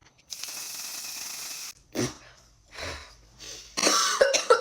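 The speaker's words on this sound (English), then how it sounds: "Let's try this setting spray." A steady broadband hiss from an aerosol setting spray lasts over a second, followed by coughing and throat clearing, then more short hissy bursts.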